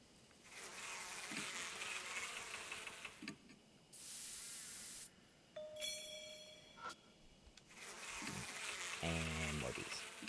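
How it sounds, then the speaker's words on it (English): Buzzing insects in the horror video game Deathmark, a steady drone with hissing spray bursts and game sound effects in between, fairly close and continuous. "And more bees."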